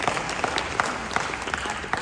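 A church congregation clapping during a Sunday service, dense steady applause from many hands filling the room without pause.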